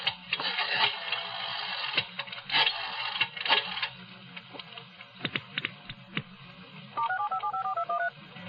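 A public phone booth at the back of a restaurant is dialed: a short run of clear touch-tone beeps sounds in quick succession near the end, after scattered clicks and handling noises from the receiver and buttons.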